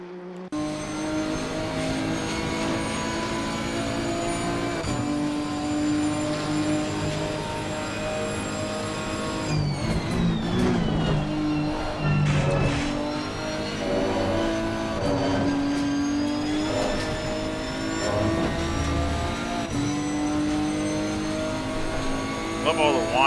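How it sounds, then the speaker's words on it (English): A Nissan GT-R GT3 race car in Assetto Corsa Competizione at Monza, with a loud, sustained engine whine and gear noise. Its pitch climbs through the gears, with shifts and braking dips partway, and a voice talks over it. "Love all the whining and gear noise and all that just sounds."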